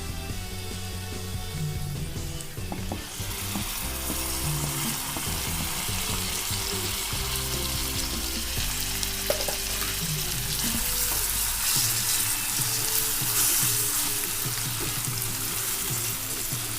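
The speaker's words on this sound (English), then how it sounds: "So now it's time to add the tomatoes." Chopped tomatoes tipped into a pan of frying onions that have turned pinkish brown, a loud, busy sizzle and crackle with stirring clatter, continuous and close, no voices.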